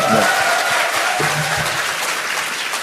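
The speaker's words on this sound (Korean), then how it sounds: "박수 한번 보내주세요" Crowd at the opening of a live public recording of a Seoul party podcast, part of a political talk concert, gives a loud burst of applause with some cheering and a brief voice near the start.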